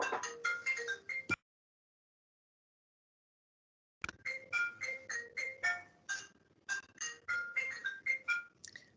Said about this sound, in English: I've got a phone ringing in the background in my house